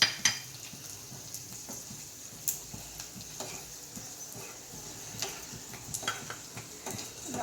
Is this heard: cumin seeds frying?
yes